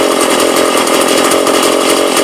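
A Stihl 27.2 cc two-stroke engine idles loud and close in a shop, a steady buzzing drone with a fine pulsing rhythm that holds even and smooth throughout.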